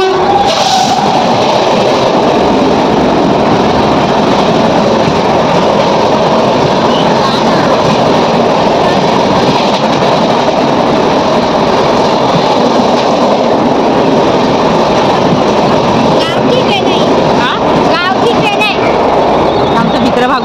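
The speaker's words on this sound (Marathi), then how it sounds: "सो आम्ही ट्रेनचा वेट करतोय आणि ट्रेन येणार आहे." A fast train rushes into a railway station, a loud, continuous roar and rumble of wagons with clattering and a high squeal near the end, while people talk over it on the platform.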